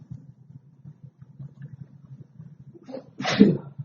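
A single sharp sneeze bursts out near the end, after a few seconds of quiet low murmuring in a maths class.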